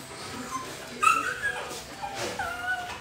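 A dog whimpers and yips indoors, a few high thin cries and short squeaky whines in quick succession over a quiet room.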